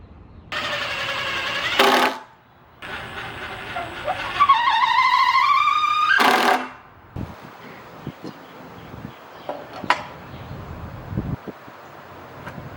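Cordless drill driving screws into treehouse deck framing, with two long whirring runs, the second rising in pitch as a screw seats, followed by scattered knocks and handling sounds outdoors.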